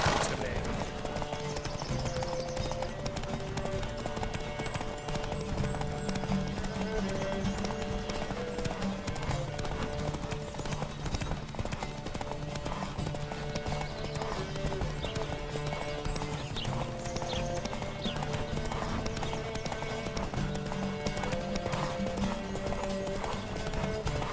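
Horses galloping in a race in The Witcher 3: a continuous fast drumming of hooves runs throughout at steady loudness, mixed with music and ambient game sound.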